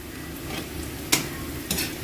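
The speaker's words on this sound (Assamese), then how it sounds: "খৰিচা উতলিছে আৰু ইয়াৰ মাছ আমি দি দিছোঁ" Bamboo shoot and fried fish boiling together in a pot for fish curry, a steady close bubbling hiss broken by two brief sharp clinks.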